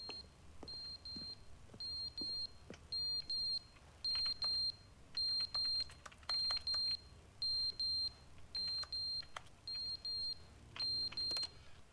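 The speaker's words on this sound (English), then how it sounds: "And I got this alarm going off." Alarm in The Stanley Parable: Ultra Deluxe video game, a loud electronic beep repeating in even bursts about twice a second, steady and insistent throughout with no talk.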